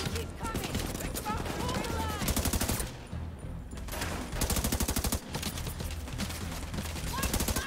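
Gunfire in the video game The Division 2, with loud bursts of rapid automatic shots, a short lull, then more volleys, as a game voice calls out over the firing.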